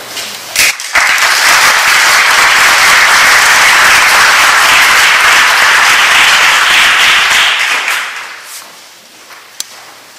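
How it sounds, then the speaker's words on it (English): Audience applause at a 2013 Catawba County Chamber of Commerce event, a dense, loud round of clapping that holds steady for about eight seconds before tapering off into near quiet. "Let's give them all one more round of applause."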